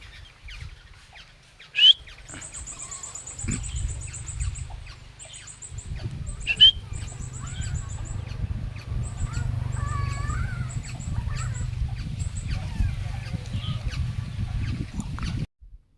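Calls of a black-naped oriole ring out in sharp bursts among repeated chirping and twittering from other caged birds, with steady background noise beneath the calls.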